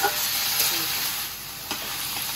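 Food fries in a pan with a loud, continuous hiss that stays close and even, touched by a couple of brief stirring clicks and scrapes. No one speaks.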